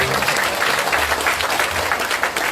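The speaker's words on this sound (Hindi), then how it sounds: "अपने लिए ताली बजाकर धन्यवाद दे दो।" Loud, dense applause from a crowd at a religious gathering in Nadi, Fiji, steady throughout with no break.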